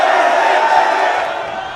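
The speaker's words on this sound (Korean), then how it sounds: "관중 모두 랜디를 응원합니다." A wrestling arena crowd roars steadily in cheers and shouts for the hero wrestler Randy, a dense, sustained wall of voices that fades slightly toward the end.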